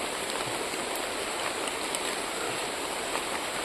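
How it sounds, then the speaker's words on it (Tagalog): Steady heavy rain pours down, a dense continuous hiss with scattered drops spattering nearby, no voices over it. "nabutan na kami ng ulan"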